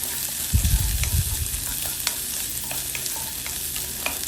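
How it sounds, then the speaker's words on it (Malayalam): Coconut pieces fry in coconut oil in a pan for a Kerala chicken dish, a steady broadband sizzle with stirring thumps near the start and scattered crackles throughout, no voices. "എന്നിട്ട് ആദ്യം നമ്മൾ 1 കപ്പ് തേങ്ങാക്കൊത്ത് അതിലേക്കിടും"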